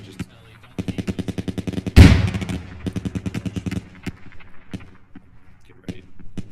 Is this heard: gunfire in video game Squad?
yes